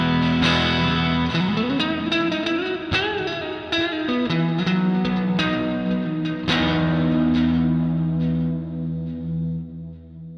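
Electric guitar run through an Empress Zoia reverb pedal with the low end cut, playing a loud, continuous run of notes with long washy reverb tails that fade out toward the end.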